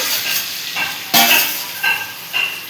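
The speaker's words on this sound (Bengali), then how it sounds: "এবার ভালো করে একসঙ্গে কষে নেব" Cauliflower and potatoes sizzle in hot oil while being stir-fried for a Bengali egg omelette curry, a steady frying hiss broken by a few louder bursts as the vegetables are stirred.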